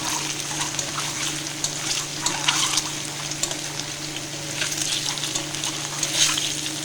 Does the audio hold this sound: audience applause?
no